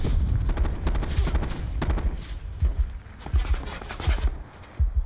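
Rapid bursts of automatic gunfire ring out in Call of Duty: Black Ops 4's Blackout mode, loud, close and repeated in quick volleys with short gaps, along with a few heavier booming shots.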